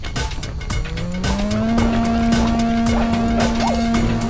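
Car engine in the Sly Cooper video game revving up, a loud rising whine that climbs and then holds at a steady high pitch, with tire and road noise throughout and no talking.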